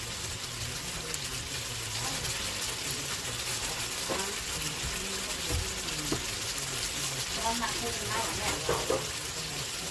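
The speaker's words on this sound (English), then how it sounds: "I wash my onion." An onion is rinsed under a running kitchen tap, a steady faint hiss of water with small splashes and handling noises near the end, quiet and continuous.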